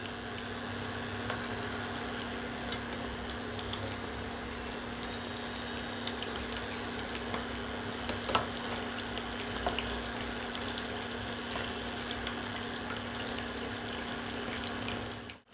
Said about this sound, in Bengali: এবার ডিম আর কর্নফ্লাওয়ারের ব্যাটারের মধ্যে ব্রেডগুলো চুবিয়ে নিয়ে আমি ভেজে নেবো